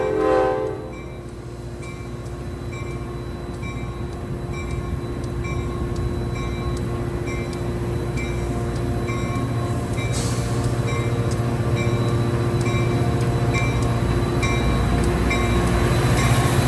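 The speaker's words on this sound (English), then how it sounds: "Here we see Loco 122 making its departure, beginning its 1-hour journey to Lebanon" WeGo Star commuter locomotive 122 departs Riverfront Station in Nashville toward Lebanon, with a loud continuous diesel engine drone, a brief horn sounding at the start, and a steadily building rumble of rolling cars.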